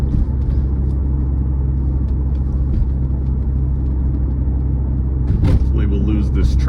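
Steady low road and engine rumble inside a 1997 Porsche 993 911 Cabriolet with Tiptronic, driven in traffic; the drone stays constant throughout, with a voice talking over it.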